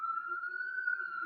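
An ambulance siren in New York City wails as a steady high tone, fairly faint and distant, held without pause over a brief stretch.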